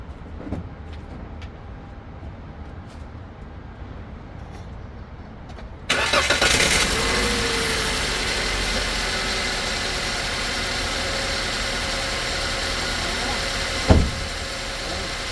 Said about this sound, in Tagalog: Subukan natin yung reaction ng makina.